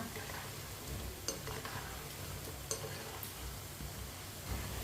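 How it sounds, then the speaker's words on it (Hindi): Spinach (palak) pakoras fry in a pan with a soft, low sizzle that stays faint throughout, broken by a few light clicks as they are turned. "पकोड़ों को ना अच्छी तरह घुमाते फिराते पका लेना।"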